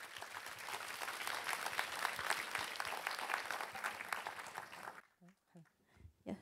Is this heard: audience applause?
yes